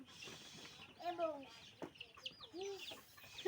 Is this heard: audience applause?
no